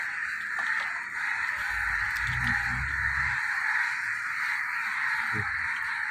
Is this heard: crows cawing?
yes